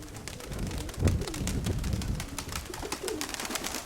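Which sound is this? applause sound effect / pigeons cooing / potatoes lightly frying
pigeons cooing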